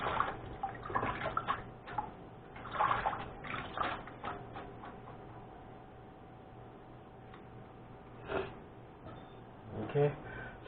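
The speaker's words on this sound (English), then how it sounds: "My wife taught me this, to wash the broccoli." Broccoli is swished and rinsed in a basin of salted water, with sloshing, dripping and splashing close by in bursts, while someone talks over it.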